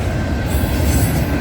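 A CN freight train passes close at night with a loud, steady roar of wheels on rail and a faint metallic squeal on top, continuous throughout.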